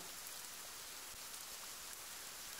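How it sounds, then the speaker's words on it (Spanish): Steady rain falls as an even, soft hiss of drops on surfaces, continuous and faint, with no voices or other sounds. "La lluvia caía sobre su cara"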